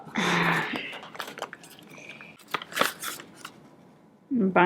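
Rustling and snipping of a package being opened, crinkly scratchy bursts and a few sharp clicks between bits of talk near the start and end.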